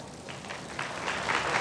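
A brief burst of audience applause at a religious festival gathering, scattered claps thickening into a fuller round of clapping that grows slightly louder.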